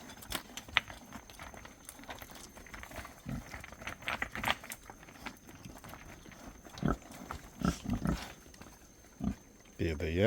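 Pigs grunting and snuffling in a pen on Niue Island, scattered short grunts and rustling close by, with a person's voice heard intermittently.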